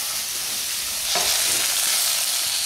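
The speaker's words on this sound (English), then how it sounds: "See, see, see if we can stir that in a bit." Cauliflower and potato curry sizzles in a pan as it is stirred, a close, steady frying hiss with a brief scraping stir partway through, no talking.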